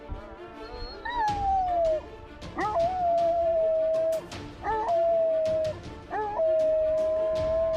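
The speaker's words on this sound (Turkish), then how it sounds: "hep bir ağızdan uluyup havlamaya başlayan köpekler" Several dogs howl together during the call to prayer in long drawn-out wails, rising and then holding, repeated four times with short gaps between.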